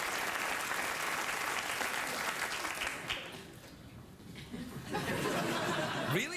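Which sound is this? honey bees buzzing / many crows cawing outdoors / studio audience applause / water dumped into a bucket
studio audience applause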